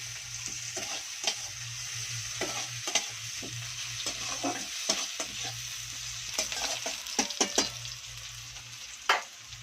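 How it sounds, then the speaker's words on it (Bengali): Onions lightly frying in a pan for an egg and eggplant dish: a continuous close sizzle with repeated clicks and scrapes of stirring, steady throughout with no talking. "পেঁয়াজগুলো আমি হালকা হালকা করে ভেজে নেবো বেশি ভাজবো না"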